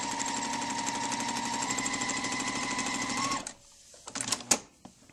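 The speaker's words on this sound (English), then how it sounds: "we're going to sew from the outside point to the inside point following the line on our machine" A sewing machine runs steadily through quilt binding fabric in a fast, even rhythmic chatter for over three seconds, then stops, followed by a few short handling clicks and rustles.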